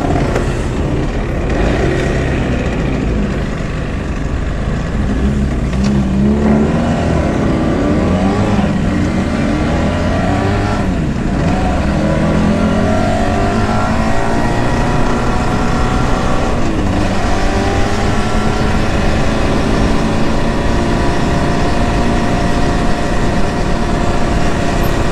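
An old Yamaha TZR250 3MA two-stroke motorcycle engine runs for an extended stretch, a loud, rough, wavering drone whose revs rise and fall, with no one talking.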